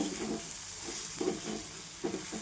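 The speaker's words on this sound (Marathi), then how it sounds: "धनिया पावडर, लाल तिखट, मीठ आणि हळद, आणि छान परतून घेते." Greens stir-fried in a pan with coriander powder, red chilli, salt and turmeric, a close continuous sizzle broken by three soft scraping stir strokes, no voices.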